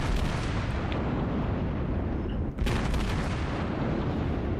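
Heavy naval gunfire from a battleship in World of Warships, the Fuso, as a dense continuous rumble of blasts and booms with a sharp burst near the middle, loud and close throughout.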